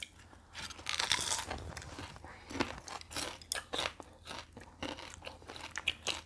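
Green onion kimchi (pa-kimchi), homegrown, being eaten with loud, close, repeated crunchy bites and chewing that come in irregular bursts, with no talking.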